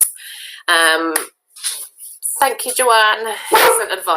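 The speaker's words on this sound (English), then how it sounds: "Oh, sorry, that's my dog." A pet dog barks sharply indoors with a few loud, close yips and bow-wows mixed between a woman's spoken words, the barks breaking in over and alongside her talking.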